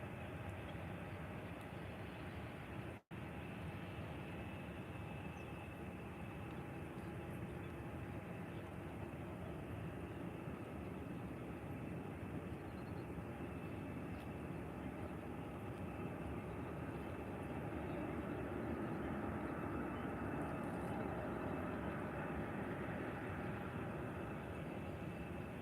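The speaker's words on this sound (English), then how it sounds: "So that was the Global X A320 from Amsterdam." Airbus A320 of Global X from Amsterdam at Faro airport, a steady broad jet roar that swells slightly toward the end, held continuously and fairly distant throughout with no talk.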